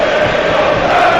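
Saints fans at a football match applauding as Ward-Prowse goes to take a corner, a loud, even roar of stadium crowd noise with clapping folded into it.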